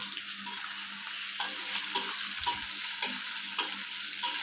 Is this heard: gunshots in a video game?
no